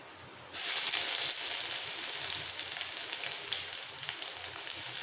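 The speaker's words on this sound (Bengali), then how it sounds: "এই তেলের সঙ্গে একটু ভেজে নিতে হবে।" Eight to ten finely minced garlic cloves dropped into hot oil for a cabbage bhorta, a sudden burst of bright crackling sizzle that settles into a steady, softer fry with scattered pops.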